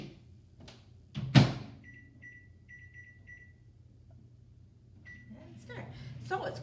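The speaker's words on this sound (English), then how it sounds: "we're just going to pop it into the microwave for 10 minutes" Microwave oven being loaded with a vegetable steamer holding zucchini medley: a sharp door thump, then a run of short electronic keypad beeps, a pause, and a few more beeps over a faint low hum, with soft kitchen noise near the end.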